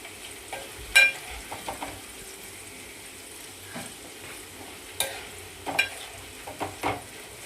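Onion tempering fries softly in a pan while being stirred, with a quiet sizzle broken by several sharp scrapes and clinks of the spoon, close and fairly gentle.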